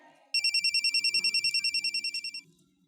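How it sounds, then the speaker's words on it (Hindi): A mobile phone rings in a home scene from a Pakistani drama, a loud electronic ringtone pulsing in a steady, even rhythm of about twenty short beeps over two seconds, then cutting off. "है, ये तो असद का फोन है"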